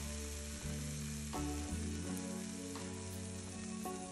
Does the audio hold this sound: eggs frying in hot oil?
yes